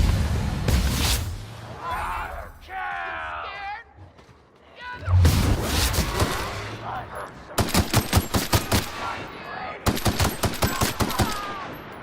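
Pistol fire in The Outer Worlds on Supernova mode: sharp, loud shots, a few spaced cracks early, then quick regular runs of shots in two later volleys, with a voice talking between the bursts.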